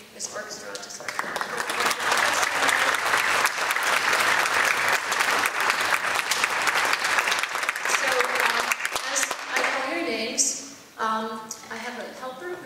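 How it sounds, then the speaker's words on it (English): An audience at a high school orchestra spring concert applauds in a sustained, loud burst of clapping for about ten seconds, then fades as a voice begins speaking over the hall. "So I want to just give them a round of applause"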